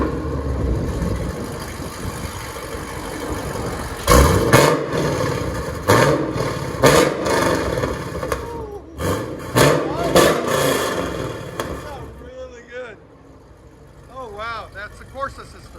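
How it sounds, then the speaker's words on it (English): A 2010 Chevy Camaro SS with a 6.2L engine and CORSA exhaust idles, then revs in repeated loud bursts before settling to a lower rumble, with occasional talk nearby. "Wow, that's the CORSA system. CORSA mufflers."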